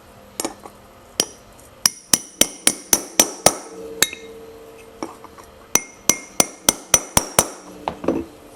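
Sharp metallic hammer strikes on a socket driving a bearing race ring out one after another in quick bursts, about fifteen close blows with brief pauses between groups, no talking, during a Rupp mini bike restoration.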